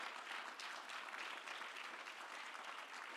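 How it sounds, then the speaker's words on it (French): Steady applause from a seated audience at an agricultural succession panel, honouring three panelists; dense, even clapping holds for the full few seconds with no voices on top. "Une bonne main d'applaudissements pour nos 3 panélistes."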